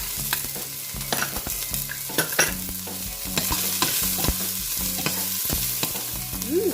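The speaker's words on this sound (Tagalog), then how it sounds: "pwede na rin ilagay yung onion. And the garlic." Onion and garlic sauté in oil for a clam, tamarind and alugbati soup: a bright, close sizzle punctuated by frequent scraping stirs and knocks against the pan, with a faint tonal line beneath.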